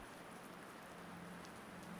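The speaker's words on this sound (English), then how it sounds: "This was steady rain," Soft, steady rain falls without pause, a faint, even hiss of drops throughout with no voices.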